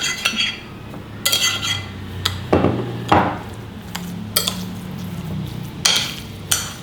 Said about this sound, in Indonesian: Kita aduk sampai tercampur